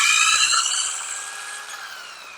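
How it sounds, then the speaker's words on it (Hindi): A hammer drill machine in drill mode bores a hole into wood, giving a loud, high-pitched steady whine that gradually eases and winds down as the bit finishes, heard alone. "हमारे ड्रिल मशीन से होल हो चुका है लकड़ी के भी अंदर"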